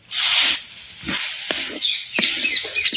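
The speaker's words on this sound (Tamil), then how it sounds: "நூறு கிராம் தக்காளி பழம் எடுத்து அலசி சின்ன சின்ன நறுக்கி இப்போ சேர்த்துக்கிறேன்" Small chopped tomatoes hit hot oil in a village-style dried mutton (uppu kandam) curry, giving a loud burst of hissing sizzle that settles into steady crackling and spitting, with no talk.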